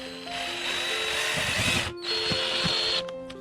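Power drill driving screws into a solid wood aquarium stand, two close, loud whirring bursts of motor whine separated by a short pause, then a brief stop and restart at the end, with no talk.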